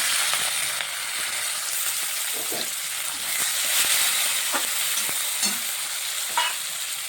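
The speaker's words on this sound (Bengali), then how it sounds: "এটা ভালো করে ভেজে নিচ্ছি। এখানে আমি একটা টমেটো কুচিয়ে নিয়েছি, টমেটো কুচিটাও দিয়ে দিচ্ছি।" Asafoetida and chopped tomato frying in a pan for mixed dal, a steady close sizzle with occasional light scrapes and stirring knocks over the full stretch, and no talking.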